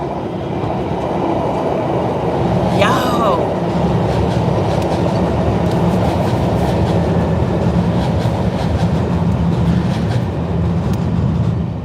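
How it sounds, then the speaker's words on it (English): A train rumbles past close by at about 4:30 in the morning, a loud continuous roar with clattering wheels and a brief squeal early on; someone speaks briefly over it. "Why is the train coming?"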